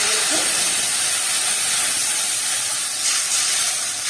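Water poured into hot oil with nigella seeds and chopped green chillies in a pan sends up a loud, steady steam hiss that fills the whole stretch without letup.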